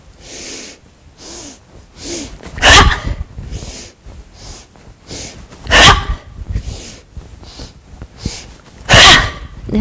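Rhythmic yoga breathing repeats up close: strong, sharp nasal exhalations land roughly every three seconds, with softer inhalations and breaths in between.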